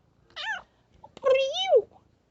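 A young kitten meowing close by: a short meow, then a longer rising and falling one, with a quiet click in between.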